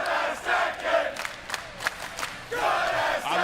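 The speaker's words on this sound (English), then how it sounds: "the crowd is letting you know what we're seeing here" A large crowd at a Tekken 8 tournament top-eight event roars and shouts in surging waves, loud and dense, dipping briefly before swelling again, with no talk over it.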